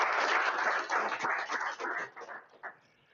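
Audience applause at a vision health incubator demo day, a dense wash of many hands clapping that thins and fades out over a few seconds.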